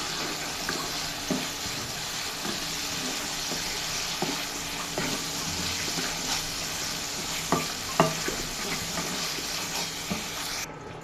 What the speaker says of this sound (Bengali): তো একটু ভালো করে কষিয়ে নিতে হবে